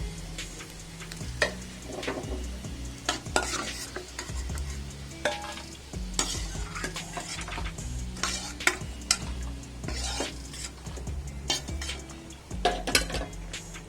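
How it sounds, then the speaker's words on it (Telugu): Ginger pieces fry in hot oil for a spicy chutney and are stirred with a utensil. A continuous close sizzle runs under repeated scraping and clinking against the pan, with no voices. "అల్లం ముక్కలు పచ్చి వాసన పోయే వరకు వేపాలి."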